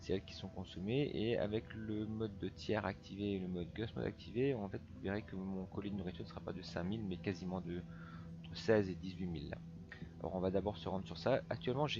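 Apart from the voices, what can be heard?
No distinct noise like a dog, phone or traffic.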